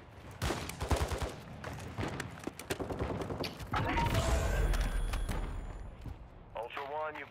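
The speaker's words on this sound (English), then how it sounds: "You are taking effective fire." Video game gunfire during a squad firefight, rapid bursts of close shots and clattering weapon sounds, followed by a denser sustained barrage, with game voices speaking over the action.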